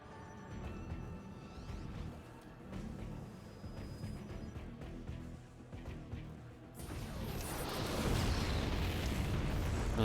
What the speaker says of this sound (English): Disruptor shot comes in, picks off the Widowmine